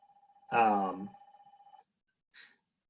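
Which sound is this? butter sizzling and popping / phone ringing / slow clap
phone ringing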